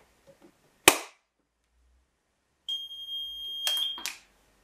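A smoke extraction control panel in a residential building goes into alarm on its manual call point line: a sharp click or snap, then after a pause a steady high-pitched electronic tone sounds for about a second and a half, punctuated by two more clicks, with no talking.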